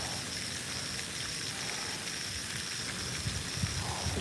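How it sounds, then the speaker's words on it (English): Light rain falling outdoors at a lake during early-morning fishing, a faint steady patter and hiss with a few slightly louder drops near the end, no talking. "It's raining a little bit."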